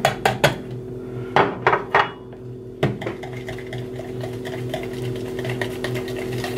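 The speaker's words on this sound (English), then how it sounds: "whisk together with the eggs." Eggs being whisked with grated zucchini, Bisquick and black pepper in a bowl: a few sharp utensil clinks against the bowl, then a steady quieter scraping and stirring, close and with no talk.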